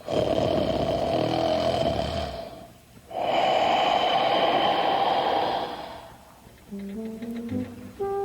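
Two long, loud, rasping snores, each a drawn-out rumbling breath, followed by a few light musical notes.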